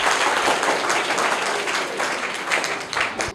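Audience applause for a contestant's correct answer on a children's quiz competition, a dense steady burst of clapping from a near crowd, slightly fading toward the end.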